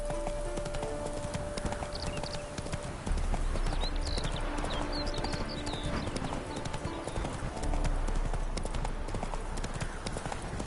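Roach the horse runs in The Witcher 3, hooves clip-clopping in a fast, even rhythm that stays loud and close over game ambience, with a brief spoken line in between.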